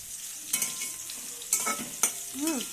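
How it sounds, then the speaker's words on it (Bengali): Eggplant fries quietly in a kadai, a soft sizzle broken by a few sharp clinks of a utensil against the pan, with no voices. "এই দেখো আমি এবার বেগুনটাকে ভেজে নেব।"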